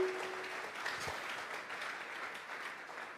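A church congregation claps together in sustained, dense applause, a steady wash of many hands that holds from start to finish without a pause.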